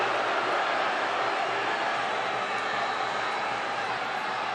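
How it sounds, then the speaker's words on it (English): Crowd at a 2017 Open Cup soccer match between FC Cincinnati and the New York Red Bulls, booing after a midfield foul call, a steady broad roar from the stands that holds throughout without any clear break. "Preston slow to his feet as the boos rain out from the crowd."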